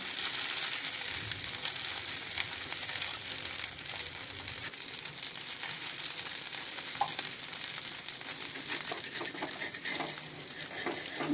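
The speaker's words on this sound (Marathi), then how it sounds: "थोडंसं तेल सोडलं बघूया आता कसा काय आपला ढोसा येतो" A dosa sizzles steadily in hot oil on a clay griddle, a continuous crackling hiss with no voices.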